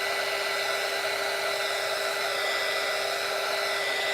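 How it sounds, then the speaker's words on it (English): A heat gun blows steadily over epoxy resin being demolded, a constant loud whirring rush of air that runs unbroken throughout with no talking. "what I'm doing is I'm just going over this with the heat gun."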